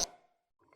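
A canteen being opened in the video game Guts and Blackpowder: a sharp pop at the start with a short ringing tail, a brief rattle, then another sharp click at the end, all close and without talk.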